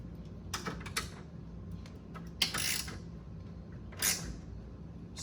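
A hand screwdriver gives a few brief clicks and scrapes as it snugs screws on an early solid-state pinball machine during setup, in short separate bursts against a quiet room.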